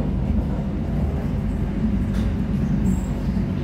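The Argo Cheribon passenger train departs Losari station with a steady low rumble of railcars rolling close by and faint higher squeals on top, with no talk.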